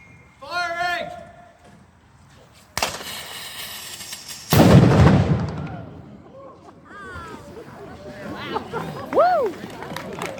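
A cannon fires at Crown Hill Fort with one sharp, loud boom followed by a rolling rumble, and a crowd cheers and shouts before and after the blast.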